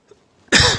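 A preacher with an irritated throat gives a single sharp, close cough that bursts out after near silence and trails off briefly.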